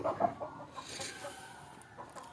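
Free-ranging country chickens clucking around their coop, a steady busy murmur of soft clucks with a couple of louder calls near the start, close by and without talk.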